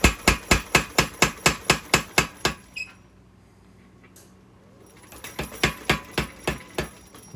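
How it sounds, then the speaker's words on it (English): A power hammer forging a knife tang strikes in a fast, even run of loud, sharp blows, pauses for a few seconds of quiet, then resumes the same steady pounding rhythm close by. "Just run it sideways through the hammer to just straighten it out."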